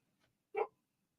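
A dog gives a single short, sharp bark at a passing motorcycle, close and moderately loud, with a faint yip just before it and quiet around it.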